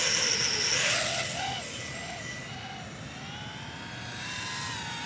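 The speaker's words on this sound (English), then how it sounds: "You can hear that whirring." Motors of a Diatone GT-R349 3-inch micro racer drone whir with a high, steady buzz that starts loud and eases to a slightly quieter, wavering whine, with no talking.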